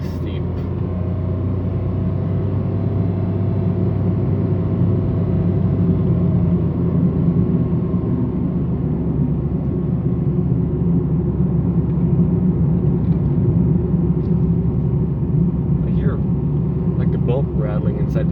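A 2024 Mitsubishi Mirage engine labors steadily in low gear up a steep mountain road, a constant low droning rumble heard from inside the car without pause.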